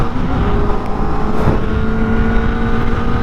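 A 2025 Kawasaki Ninja ZX-4RR 400cc motorcycle cruises at freeway speed, a steady smooth engine hum blended with heavy wind rush, continuous and close throughout.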